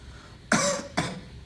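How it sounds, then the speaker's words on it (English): A patient gives two short, close coughs during a medical examination, one right after the other, in a quiet room. "I'm now going to ask the patient to cough."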